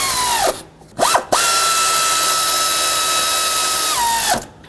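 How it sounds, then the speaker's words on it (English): A power drill snugs the bolts on a new thermostat housing of a 2003-2021 Chevrolet Express: a short whir ramps up and stops, then comes a quick second burst and a steady run of about three seconds that winds down, close and loud. "With the two bolts in, let's go ahead and snug these up."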